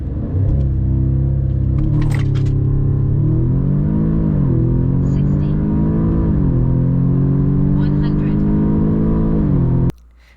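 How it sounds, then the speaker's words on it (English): A 2-liter Audi S3 accelerating hard, its engine droning loud and close as the pitch climbs through several gear shifts, with brief dips between gears, before cutting off abruptly near the end. "And now let me show you just how fast the Audi S3 is."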